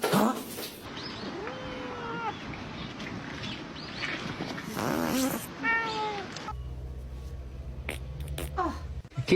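A cat meows repeatedly, with several drawn-out, wavering calls close by, interspersed with rustling and household noise, followed by a low steady hum near the end.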